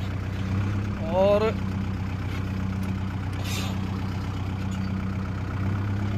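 A Kubota 4501 tractor pulls a harrow in third gear on the low range. Its diesel engine holds a steady, loud droning hum throughout, with a brief voice and a short rising whine near the start.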